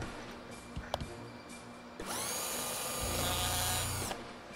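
Small drill bit boring through wood held in a Big Gator small drill guide: a brief high-pitched whirring drill run of about two seconds, close and fairly loud, after a few light handling clicks.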